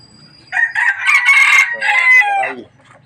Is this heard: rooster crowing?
yes